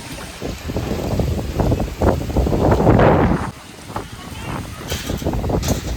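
Strong storm wind under gathering clouds buffets the microphone in heavy gusts, with a roaring swell in the middle and people talking underneath.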